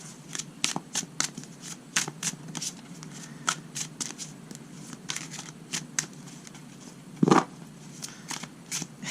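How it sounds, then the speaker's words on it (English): Large tarot cards are shuffled by hand in a steady series of crisp riffling slaps and flutters, with one louder clack near the end, close and alone. "These cards are large. My hands are not big enough, so I'm shuffling this way now."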